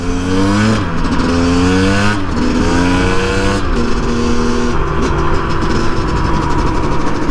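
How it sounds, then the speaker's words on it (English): A small two-stroke KTM dirt bike engine revs close by, its pitch repeatedly climbing and dropping in loud, raspy bursts with a constant rough rattle underneath. "Just like all two strokes, she'll sound a little flappy at first till we clean it out."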